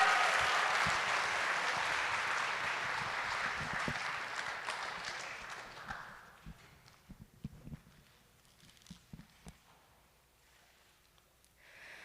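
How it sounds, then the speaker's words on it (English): An audience at a Black History Month celebration applauds a singer, dense clapping that holds for about six seconds and then fades to a few scattered claps and quiet room noise. "So let's give her a big round of applause."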